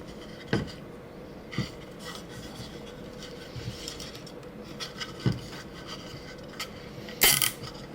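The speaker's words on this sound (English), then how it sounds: "Stick the motor onto the chassis and then fasten it with a cable tie." A cable tie is fastened around a small motor on an MDF robot chassis, giving scattered sharp clicks and brief scratchy rubs with quiet gaps between them. The last burst is louder and ratchety, and there is no talk.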